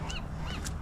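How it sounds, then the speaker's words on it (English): Seagulls at Bodega Bay on the California coast give two quick, fairly faint honking cries, heard alone over a steady low background rumble. "You can hear those seagulls are howling."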